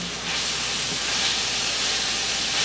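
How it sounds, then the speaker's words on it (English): Sauce for keto stuffed acorn squash simmers on the stove over low heat, giving a steady soft hiss with a faint low bubbling underneath, no voices. "We're going to turn down the heat to a very light simmer."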